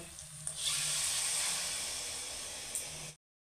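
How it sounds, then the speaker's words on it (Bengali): Water pours into a hot pan of pointed gourd (potol) korma gravy with a rushing hiss and sizzle for about three seconds, then stops abruptly into silence. "গ্রেভিটা বাড়িয়ে নেওয়ার জন্য দিচ্ছি পরিমাণ মতো জল।"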